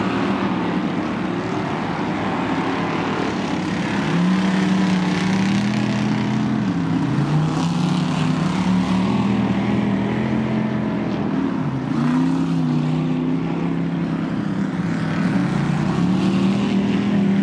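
Off-road race trucks at a dirt track in Crandon, Wisconsin roar steadily throughout, engines droning loud and continuous with rising and falling pitch as they power through turns, with no talk.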